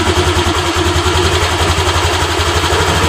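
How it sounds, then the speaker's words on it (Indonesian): A Honda Vario LED scooter engine running at raised RPM during idle adjustment, a loud, steady close-up drone with a fast, even pulsing throb and no talk. "Dan di sini RPM rendah, jadi kita setel untuk RPM-nya."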